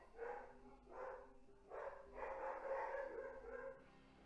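Dogs bark in a series of faint, muffled woofs from some distance indoors, repeating irregularly with no talking.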